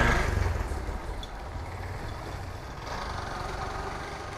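A Rapido motorbike engine idles steadily on a Bangalore street, a continuous low rumble that starts slightly louder and then settles at an even level, with no talk over it.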